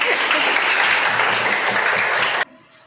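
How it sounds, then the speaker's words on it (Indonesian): A classroom of students applauds loudly and steadily for over two seconds, a dense wash of clapping that cuts off abruptly into quiet room tone. "Ya, berikan tepuk tangan."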